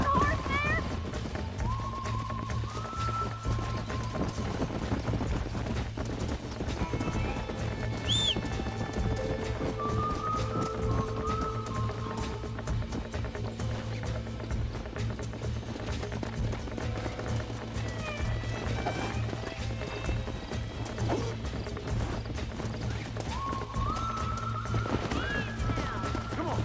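Hooves clip-clop and a horse whinnies in Red Dead Redemption, a galloping rhythm carrying through most of the stretch with several neighs over game music, while someone talks throughout.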